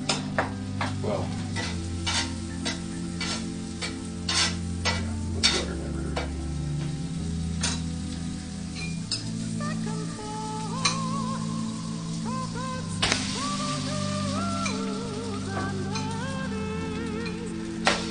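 French toast fries in butter in a pan, with a steady sizzle under repeated sharp clinks and scrapes of a utensil, while light background music plays.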